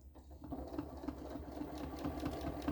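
A sewing machine runs free-motion stitching along the edge of a star on a quilted stars-and-stripes table runner, a fast steady needle patter with a low motor hum, close and uninterrupted.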